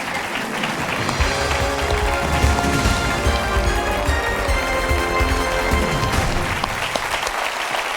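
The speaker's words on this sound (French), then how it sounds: "Applaudissements du public pour notre excellente candidate" A studio audience on a French TV quiz show applauds loudly, a dense, steady wash of clapping that lasts several seconds before thinning out at the end.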